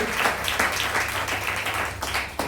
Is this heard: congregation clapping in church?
yes